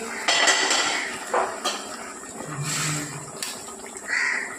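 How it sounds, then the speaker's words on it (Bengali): A metal lid lifted off a pot of homemade chili chicken, with a few clanks and scrapes of metal against metal, moderately close, in a quiet kitchen with no talk. "এবার 10 মিনিট পর আমি ঢাকাটা খুলে দেখছি"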